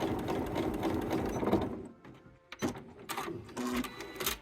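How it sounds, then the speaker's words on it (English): Sewing machine with dual feed stitching thick upholstery vinyl: a steady mechanical whirr for about two seconds, then brief stop-start bursts of stitching after a short pause, close and fairly quiet. "And this is some pretty thick vinyl that we're sewing on."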